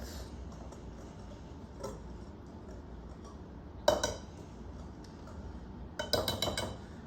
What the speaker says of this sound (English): you can take your whisk and you can stir it as much as you like